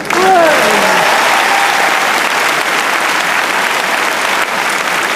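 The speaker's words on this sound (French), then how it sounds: "On applaudit l'équipe du doublage." A live audience at a Star Wars dubbing actors' reunion event applauds steadily, dense clapping filling the hall for several seconds, with a brief voice at the start.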